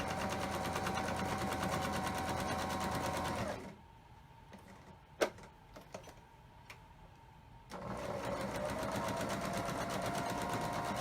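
Sewing machine rattling steadily while quilt blocks are sewn, a loud continuous mechanical whir that stops for a few seconds with faint clicks and a knock, then resumes.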